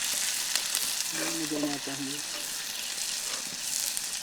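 Onions fry in a pan over a campfire in gloomy forest weather, a steady broadband sizzle running throughout, with a brief tonal voice-like sound in the middle.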